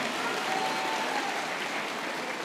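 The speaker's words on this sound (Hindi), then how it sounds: "तालियां बजाकर स्वागत कीजिए" An audience at a political speech in Malegaon claps in a dense, steady burst of applause that holds at a fairly even level throughout, with no clear voices on top.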